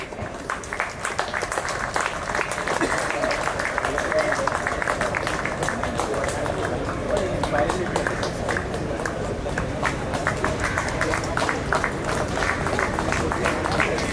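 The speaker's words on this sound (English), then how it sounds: "please, a big round of applause" A hall audience at an inaugural sports ceremony gives steady, sustained applause for a staff club felicitation, a dense patter of many hands that holds at an even level throughout, with faint voices beneath.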